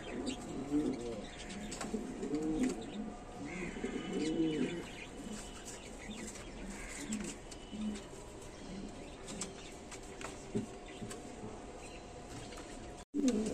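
Sirazi pigeons in a loft coo in soft, repeated rolling bursts, with faint chirps from other birds and low room noise.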